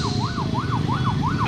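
An ambulance siren wails in steady rising and falling sweeps, loud and close, over road and traffic noise on a drive from Makassar to Toraja.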